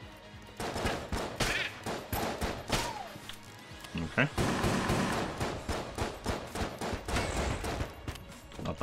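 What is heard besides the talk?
video game explosions and gunfire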